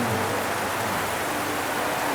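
Rain falling at a night Ramadan gathering, a steady, even wash of broadband hiss with no distinct drops or pauses.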